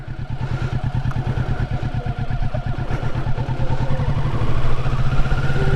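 A motorcycle carrying passengers idles and pulls away, its engine chugging in a steady close pulse that grows slightly louder toward the end, with no talk.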